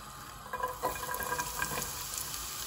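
Cooking oil heating in a pan for a Bangladeshi-style bok choy recipe, a faint crackling sizzle with scattered small pops and light clinks, quiet and close.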